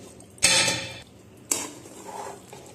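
Mutton chukka is stirred in a pan with two loud metallic scrapes of a spoon against the pan, separated by a short pause.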